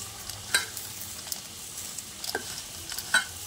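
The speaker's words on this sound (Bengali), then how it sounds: "আলুগুলোকে একটু লালচে করে ভেজে নিতে হবে" Potatoes frying in hot oil until reddish for Hyderabadi mutton dum biryani: a soft, steady sizzle broken by a few sharp clinks and scrapes of stirring against the pan.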